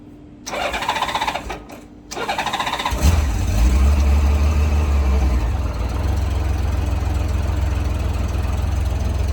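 A 1994 Honda Goldwing 1500 Aspencade motorcycle cranks with the choke off, sputters briefly, then catches and settles into a steady, even idle close by.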